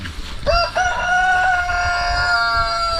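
Brown Rhode Island chickens on an organic egg farm, a loud nearby rooster crow ringing out over softer clucking and barnyard sounds.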